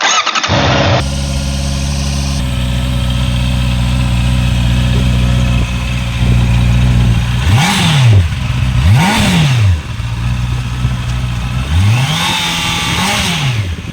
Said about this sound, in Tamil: இந்த வண்டியை நம்ம ஸ்டார்ட் பண்ணி பார்த்துடலாம். ஸோ அந்த இன்லைன் 4 cylinder சவுண்டை நம்ம கேட்போம்.